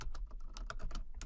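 Close, quiet tapping on a computer keyboard, a quick run of about a dozen keystrokes in just over a second with no talking.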